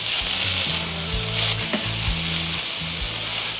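Burgers sizzle on a grill over lump charcoal, with a steady, close, loud hiss of fat and juices and a low rumble beneath, and no talking.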